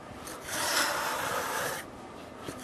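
Hook scraper rasping loose, peeling paint off a wooden surface: one sustained, close scrape lasting about a second and a half, then quieter handling.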